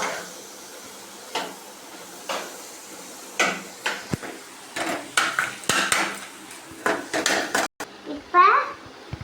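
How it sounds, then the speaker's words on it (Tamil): Tomatoes sautéed in a pan for tomato chutney by a child cook, with a series of sharp close scrapes and clinks of a spoon against the pan in irregular bursts and a voice briefly heard. "வதக்குறேன். நல்லா வதக்கிக்கலாம்."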